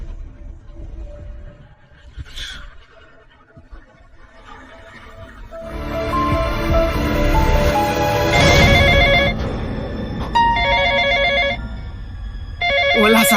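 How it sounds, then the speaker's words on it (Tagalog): A phone rings in a tense horror mystery scene: after a quiet stretch, a loud electronic ringtone starts and repeats in bursts against a low rumbling backdrop. "Wala sa atin ang phone na to."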